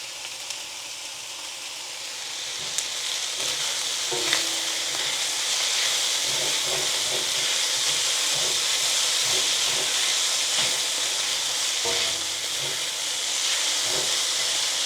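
Steady sizzling hiss like food frying in a hot pan, loud and continuous throughout with faint clicks and small pops scattered on top.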